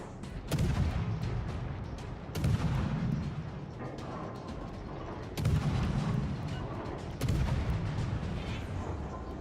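Heavy ship cannon shots in a video game boom in a repeating series of four, each a deep thud with a rumbling tail, over a constant background of battle noise.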